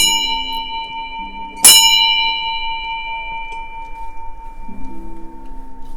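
An antique clock bell gives one clear, bright chime that rings out and slowly decays over several seconds in a quiet room, with faint background rustling and no talk.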